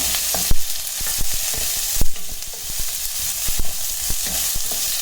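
Shallots sizzle steadily in a hot pan for a Tamil-style okra stir-fry, with a bright constant frying hiss broken by irregular clicks and scrapes of a spatula stirring, close and fairly loud, with no talking.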